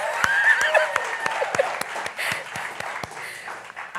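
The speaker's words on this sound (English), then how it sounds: "I'm not used to the clapping in between y'all" A community grant award ceremony audience bursts into scattered clapping, sharp individual claps spaced irregularly rather than a full ovation, fairly close and distinct, with a voice briefly heard near the start.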